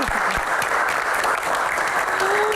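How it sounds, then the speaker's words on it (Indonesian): A studio audience of university students at an evening Q&A television show breaks into steady, dense applause, loud and close, filling the whole moment without pause. "Tepuk tangan juga untuk rekan-rekan mahasiswa yang hadir di studio kali ini. Tepuk tangannya mana?"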